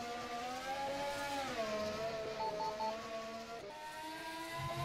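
A Formula open-wheel race car engine in the rFactor 2 sim, the Formula SimRacing FSR 2018 development car, drones steadily from the cockpit view, its pitch sliding down and back up through gear changes, fairly quiet and with no talk.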